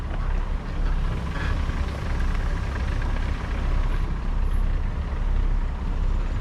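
A lifted Jeep Grand Cherokee with a BDS lift rolls through the woods on a bumpy test drive, a loud steady engine and road rumble heard close from inside the vehicle.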